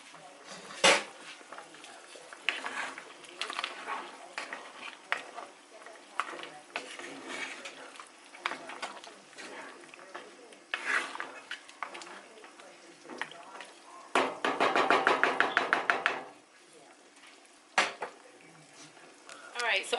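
A spoon stirs Jamaican-style oxtail stew in a pot, scraping and clinking against the metal in irregular bursts, with a louder stretch of rapid stirring near the end, between spells of speech.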